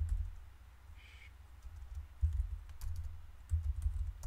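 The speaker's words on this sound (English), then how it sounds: "What am I typing?" Computer keyboard typing during After Effects compositing work: faint, irregular clicks and keystrokes under a low background rumble, with a few louder bursts, no talk.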